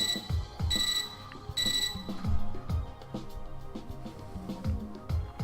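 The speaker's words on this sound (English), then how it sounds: "Our mutual silence is interrupted by my computer terminal's beeping." A computer terminal in the video game Fate/Extra beeps in two short, bright bursts near the start, over a game music backing that runs throughout.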